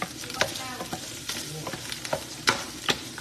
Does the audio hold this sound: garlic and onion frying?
yes